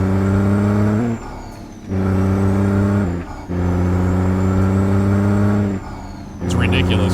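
A CAT C-15 engine in a Peterbilt 389 in a truck driving game roars with a deep harmonic drone, dipping briefly three times between gears before climbing again, with a short hiss near the end.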